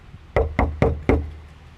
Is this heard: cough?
no